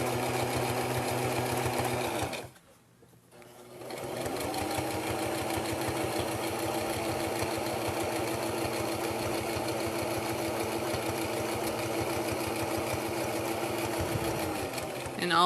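A sewing machine stitches fabric for an envelope pillow case, a steady close mechanical whir that runs almost the whole time, with one brief pause near the start before it resumes and continues evenly to the end.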